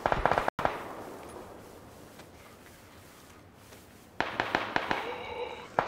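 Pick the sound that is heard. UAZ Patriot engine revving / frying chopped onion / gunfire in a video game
gunfire in a video game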